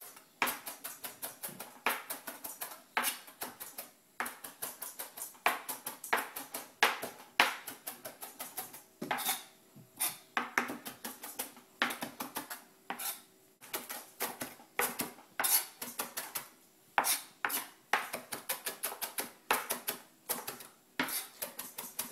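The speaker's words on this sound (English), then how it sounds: "with a knife you just give it a little nice chop" Parsley being chopped with a knife on a board, dense clusters of rapid light taps in quick rhythmic bursts with short pauses, close and fairly quiet.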